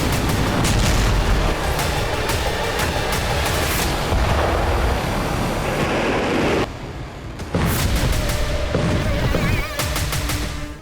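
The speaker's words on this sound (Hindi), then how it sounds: "रूसी नौसेना के हेडक्वार्टर पर यूक्रेन ने 3 स्टॉर्म शैडो मिसाइलें दागी, तो उसके नेवल बेस पर 5 स्टॉर्म शैडो मिसाइल से भीषण प्रहार हुआ" Storm Shadow missile strikes on a Russian naval base, a loud, chaotic wall of deep booming blasts and crackling roar that continues with only a brief dip partway through before surging again.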